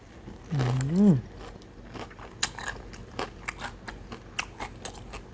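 Crunchy bites into crispy battered fried chicken wings, close sharp crackles and chewing crunches repeating irregularly after a short vocal murmur.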